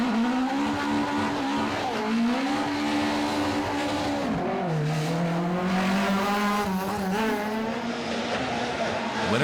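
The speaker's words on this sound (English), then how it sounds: "2nd, James McCarville and Paddy McCrudden, despite this hard revving spin on Molls Gap." A rally car at the Killarney Historic Rally on Molls Gap revs hard through a spin, its engine note rising and falling in long sustained howls with tyre squeal, loud and continuous for the whole stretch.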